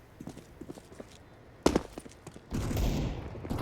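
A MAC-10 submachine gun fires in a Counter-Strike match on the Vertigo map, with a sharp loud burst partway through and then a steady dense roar of fire and game noise to the end.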